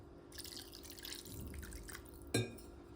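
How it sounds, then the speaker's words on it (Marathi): Water poured into rava dhokla batter in a bowl, soft trickling and dripping with a sharp splash near the end, close and quiet. "आता आपण त्याच्यामध्ये लागत पाणी टाकूया."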